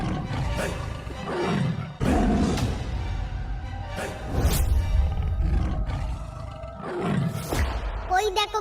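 A tiger in an animated story lets out several loud, rough roars in bursts, each rising and fading, close and dramatic throughout.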